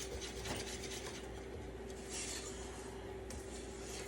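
Flour whisked into popover batter in a bowl, a steady close scraping and rubbing swish that continues without pause over a low background hum.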